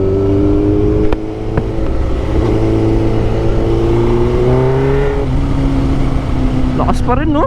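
A 2007 Suzuki GSX-R 1000 motorcycle engine hums steadily at close range, its pitch rising and falling as it revs through gears, with wind noise throughout and a sharp warbling rev near the end.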